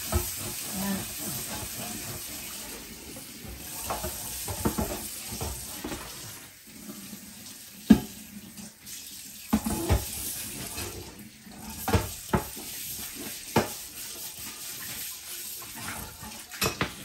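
A kitchen tap runs steadily at the sink during washing up in a home in Norway, with scattered clinks of dishes and light knocks over the hiss of water.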